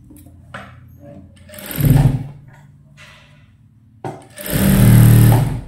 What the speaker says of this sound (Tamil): லைனிங்கை இதுக்குள்ளே வச்சு உள் பக்கத்தில் வச்சு சுற்றி தையல் போட போகிறோம்